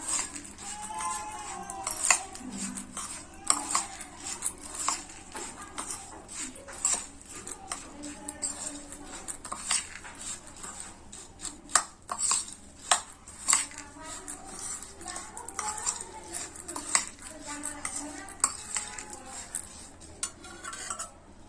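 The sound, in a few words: mixing spiced masoor lentils for namkeen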